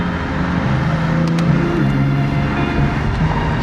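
Continuous engine and exhaust drone from a stock-turbo BMW F80 M3 making 480 wheel horsepower, heard from inside while driving on back roads, with steady low rumble and shifting pitch as revs rise and fall.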